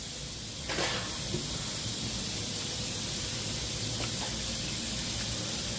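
Water gushes steadily from a home tap as a continuous, even hiss, with a brief clink near the start and no voices.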